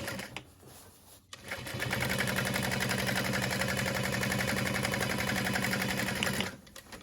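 Close up, a sewing machine runs a steady stretch of rapid, even stitching near a seam, starting after a short quieter patch and a brief gap, then stopping near the end, with no voices.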